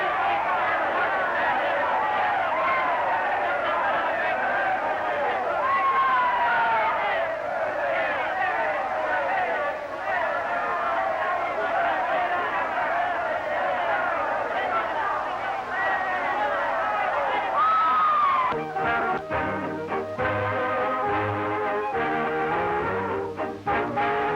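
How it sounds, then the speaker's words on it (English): Boxing crowd in an old documentary shrieking and yelling in a dense, continuous roar of many voices, loud throughout, with a rougher, choppier stretch near the end. "the crowd just shriek and yell"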